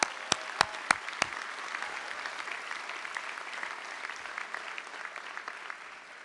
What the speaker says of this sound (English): Let's have a wonderful round of applause.